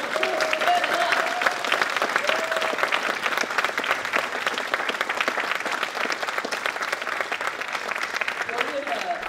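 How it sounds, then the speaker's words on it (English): A crowd applauding award finalists at a college student awards ceremony, brisk continuous clapping throughout with some voices and whoops mixed in. "Yeah, round of applause."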